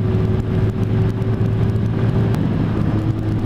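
A Lexmoto ZSX motorcycle engine drones steadily while riding, a loud, constant mid-pitched hum with wind rush and no pauses or speech.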